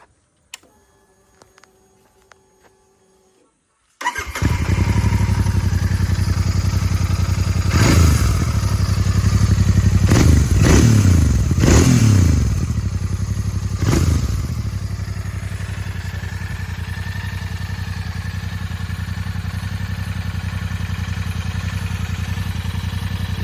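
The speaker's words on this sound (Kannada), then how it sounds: "ಬನ್ನಿ ಇದ್ರ ಎಕ್ಸಾಸ್ಟ್ ನೋಟ್ ಯಾವ ಥರ ಇದೆ ಅಂತ ಕೇಳ್ಕೊಂಡು ಬರೋಣ" Royal Enfield Continental GT 650 twin motorcycle starting up and settling into a loud, steady idle exhaust note, with a few sharp revs blipped early on, close by with no talking.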